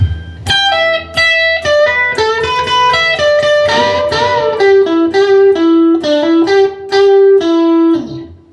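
Clean electric guitar plays a bluesy single-note lick, quick picked phrases with bends and held notes, loud and close, with no talking.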